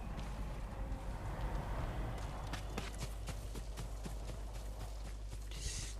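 Horse hooves clop steadily in the Ghost of Tsushima video game, a continuous rhythmic patter over a dense bed of ambient game noise, with no talking.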